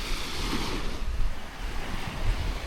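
Waves washing onto a small beach at high tide at a nature campsite, a steady rushing surf with wind noise on the microphone, fairly loud and without talk.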